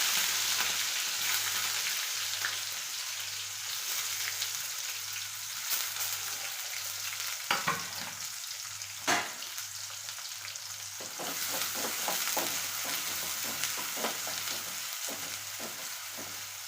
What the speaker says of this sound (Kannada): ಇವಾಗ ನಾನು ಏನು ಮಾಡ್ತೀನಿ, ಉಳ್ಳಾಗಡ್ಡಿನ ಹಾಕ್ತೀನಿ